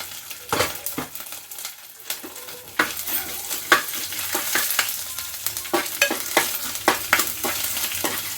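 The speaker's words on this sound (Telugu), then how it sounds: "కొంచెం జీలకర్ర వేసుకున్నాం కొంచెం షాజీరా కొంచెం జీలకర్ర కొంచెం షాజీరా" Cumin and shahjeera crackle and sizzle in hot oil in a home kitchen pan, a steady close frying hiss broken by sharp popping bursts and a few stirring scrapes, with no voices.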